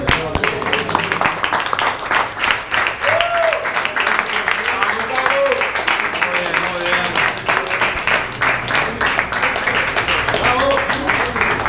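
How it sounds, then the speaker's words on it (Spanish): Audience clapping for contestants in a 4x4 burger eating challenge at a bar, steady dense applause lasting throughout with cheering voices and talk mixed in. "Vamos a hacer un buen aplauso para los pibes que ya estamos"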